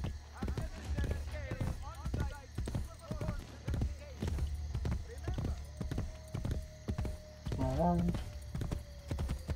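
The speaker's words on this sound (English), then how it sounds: "I'm gonna use a horse." Horse hooves clip-clop at a steady gallop in Assassin's Creed Brotherhood, close and continuous beneath someone talking over the gameplay, with a short whinny-like call near the end.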